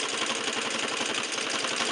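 A sewing machine running continuously at speed during free motion quilting of feather stitching, a steady dense mechanical whir with rapid needle chatter, close and alone.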